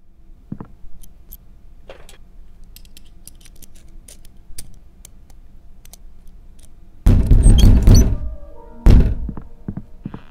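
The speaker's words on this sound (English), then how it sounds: "Gosh, that knocking is loud." Loud, heavy knocking on a door inside a house in the horror game The House in the Middle of the Forest, booming in two thick bursts near the end after a stretch of faint, sparse thuds.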